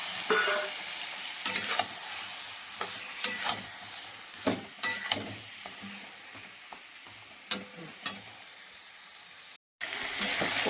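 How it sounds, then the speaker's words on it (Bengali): Tengra fish curry with tomato cooking down in a pan with a little water, giving a soft continuous sizzle and bubbling broken by repeated sharp stirring clatters, close, with a short silent gap near the end. "আমি একটু জল দিলাম জল দিয়ে কষাবো ওটা"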